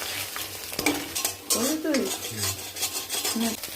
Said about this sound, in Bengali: ডিমটাকে ভেজে একটু নুন দিয়ে ভালো করে এটাকে নেড়ে নেড়ে ঝুড়ি ঝুড়ি করে নেবো।